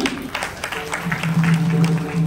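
An audience claps at a Marathi kirtan, a dense patter of hands that builds over held harmonium-like tones and grows fuller and louder toward the end.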